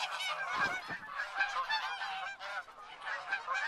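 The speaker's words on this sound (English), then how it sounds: "Because it's literally 360 degrees of goose screaming." A dense flock of geese honks loudly from every direction, overlapping calls forming a continuous raucous chorus, close and unbroken, with no talk over it.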